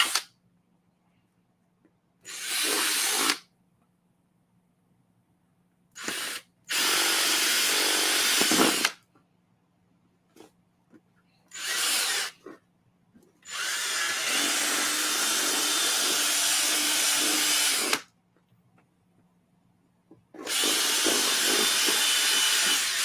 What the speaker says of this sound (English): I'm sawing with a drill.